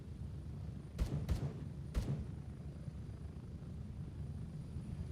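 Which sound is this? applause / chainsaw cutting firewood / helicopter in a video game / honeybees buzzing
helicopter in a video game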